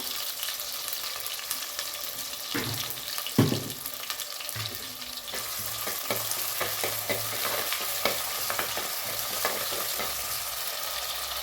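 Shallots and curry leaves sizzle and hiss in a hot pan while a utensil stirs and scrapes, making irregular clacks over the steady frying.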